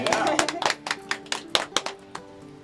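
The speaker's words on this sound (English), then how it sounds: "Round of applause for that." Scattered, distinct handclaps from a small audience at a music awards preview show, about a dozen sharp claps fading out over a couple of seconds.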